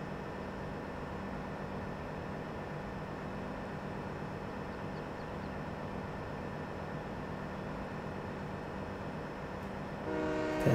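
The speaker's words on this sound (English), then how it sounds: "Let's take the train back over to the station and park it." A train in the Farming Simulator 17 video game rumbles along steadily with a low, continuous drone and a sustained horn tone running through it, fairly loud and unbroken.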